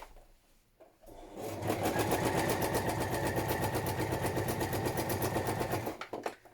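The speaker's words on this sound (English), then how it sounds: "now you can zigzag, you can do a straight stitch, whatever makes you happy. I'm going to carry on with a zigzag." A sewing machine stitches a zigzag seam across a padded patchwork journal cover in a steady, fast, close run of about five seconds, after a quiet start, with no talking.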